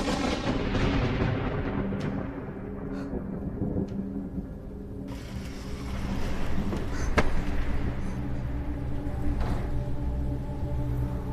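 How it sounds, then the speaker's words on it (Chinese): Thunder rolling over steady rain, a low rumbling roll with one sharp crack partway through, heavy and continuous without any talk. "总是打雷下雨"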